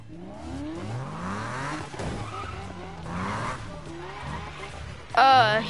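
Lamborghini in a Need for Speed video game, engine notes rising and falling through gear changes, then a sharp loud tire skid squeal near the end, with game sound layered under the drone.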